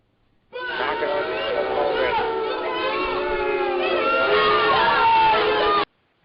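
Loud, dense crowd noise from a wrestling event audience, sustained cheering with whoops and shouts rising and falling for about five seconds before cutting off, no clear single voice standing out.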